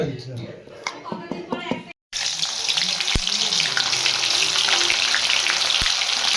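Something frying in a pan for Bengali-style palak paneer, a loud continuous sizzle close up after a brief burst of clattering and a short silence, with a couple of sharp clicks.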